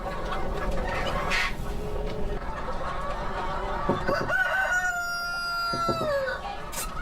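Egg-laying hens cluck steadily in a poultry farm while a rooster lets out a clear, close crow partway through, set against a continuous barnyard murmur.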